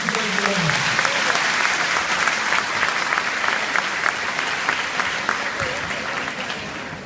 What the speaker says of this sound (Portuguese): Merece uma grande salva de palmas para todos vocês.